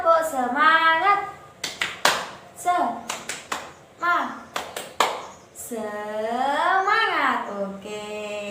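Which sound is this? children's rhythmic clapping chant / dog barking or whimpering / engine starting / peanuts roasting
children's rhythmic clapping chant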